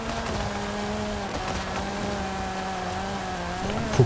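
A Porsche rally car driving in Forza Horizon 5, its engine droning steadily with shifting pitch changes like gear shifts and a brief sharp noise at the very end, with no talking.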